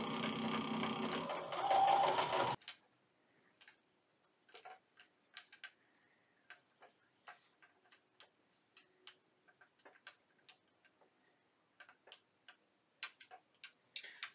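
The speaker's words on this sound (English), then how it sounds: "We're gonna sew these all up together" A sewing machine stitching cotton fabric pieces together, heard as a loud, steady whirring run that stops abruptly and gives way to faint, scattered ticks and clicks, close by.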